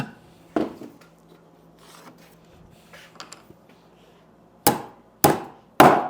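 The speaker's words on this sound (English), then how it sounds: "drive the 3 nails in, pop 3 cap nails in" Nails being driven by hammer, three nails followed by cap nails, in a timed trades contest: a few scattered taps early, then three loud, sharp strikes close by near the end, with no talking.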